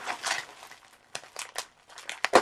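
Crinkling and tearing of tape and bubble wrap as a taped-up mailed package of comic books is opened, in uneven bursts of rustling with short sharp crackles and pauses between them.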